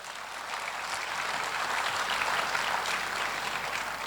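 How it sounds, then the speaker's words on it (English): Steady applause from a crowd at a Nigerian memorial night for a late bank founder, a dense even patter of many hands that keeps up without a break. "Please, a round of applause for Olori."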